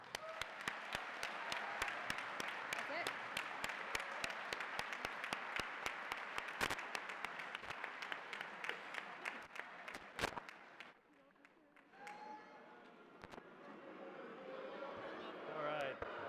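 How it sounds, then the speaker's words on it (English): A large school assembly crowd applauds steadily and loudly for about eleven seconds at a Gatorade Player of the Year award announcement for Jayson Tatum, then the clapping thins out as someone speaks briefly. "How about one last round of applause?"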